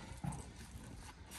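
Horse hooves clip-clop faintly on the ground, with a few soft irregular steps at a distance and a low background hum.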